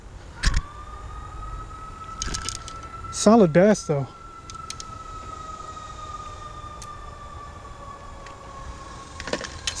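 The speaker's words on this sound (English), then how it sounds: "Some kind of siren." A distant siren carries across the water during a bass fishing trip, a faint steady tone with a short, louder warbling burst midway, while someone talks briefly over it.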